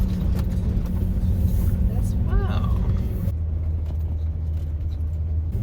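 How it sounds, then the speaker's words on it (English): Car creeping slowly downhill in low gear on a road near an extinct volcano, a steady low engine rumble running throughout with a brief voice speaking over it. "Got my transmission in low gear so that I don't have to step on the brakes so much."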